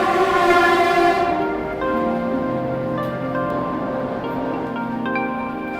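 A train horn sounds with sustained layered tones, fading and shifting pitch over several seconds amid the background rumble of a platform at Andheri railway station, Mumbai.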